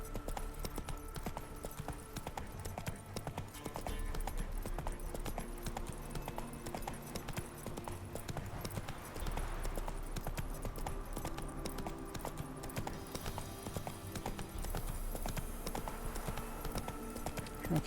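Steady clip-clop of horse hooves from a mount in the video game Witcher 3: Wild Hunt, a continuous trotting rhythm running the whole time beneath a layer of game music and ambience, with no talking.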